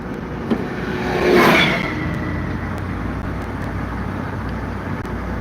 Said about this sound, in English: It's one of these big wide-ass tractors.